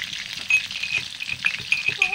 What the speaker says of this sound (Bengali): লবণ আর হলুদ দিয়ে ভাজবো।